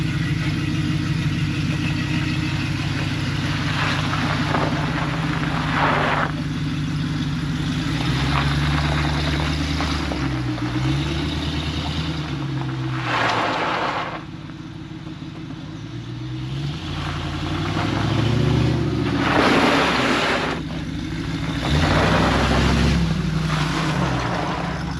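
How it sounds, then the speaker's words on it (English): A Jeep TJ rolls through an alley while its brakes are tested after a master cylinder replacement. The engine hum swells and fades as the vehicle slows and moves off again, with no voices. "So right now, I'm just testing my brakes in the alley, make sure they work perfectly"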